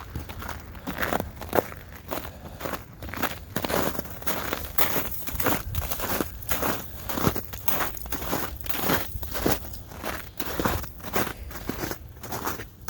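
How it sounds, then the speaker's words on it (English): Steady footsteps crunch on icy snow while walking outdoors in Montreal, a regular rhythm of roughly two steps per second, close and crisp throughout. "For all you that like the sound of crunching snow, well,"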